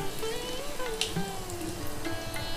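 Dried red chillies, bay leaf and asafoetida sizzle in hot oil in a pressure cooker, a steady close crackling hiss throughout.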